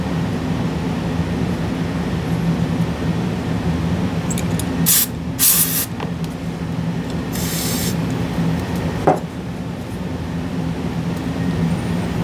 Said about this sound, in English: This one will be easier probably with the spray.